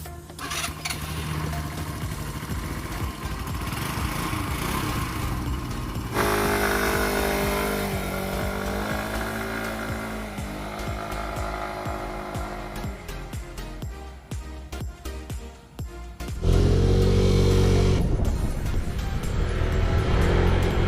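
A carburetted Kymco Like 125 scooter engine runs loudly throughout, shifting pitch as it revs and changes speed, then rising to a louder steady drone near the end.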